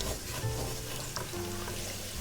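Garlic and sausage sizzle steadily in a hot pan while being stirred around, a continuous close frying hiss with faint scraping and no talking.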